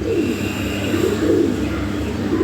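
Lahore pigeons coo in a low, rolling murmur that runs continuously and near, over a steady background hum.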